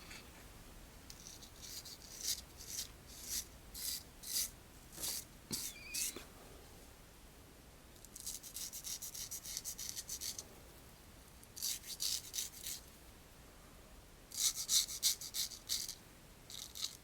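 A Dovo Encina 6/8-inch straight razor is honed on lapping film, soft rhythmic rasping strokes in short bursts with pauses, faint and close, without talk.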